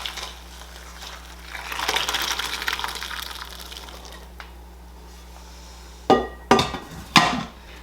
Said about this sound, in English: I'm going to strain my chickpeas. I'm going to use a bowl and a strainer for this